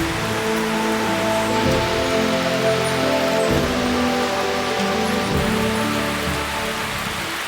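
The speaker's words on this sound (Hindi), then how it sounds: "शाम के 4:45 बजे बाहर झमाझम बारिश हो गई शुरू, और चारों ओर से लग गया पूरा कोहरा।" Heavy rain pours steadily outdoors on a foggy late afternoon in the hills, a dense continuous hiss of drops on surfaces with no break and no voices.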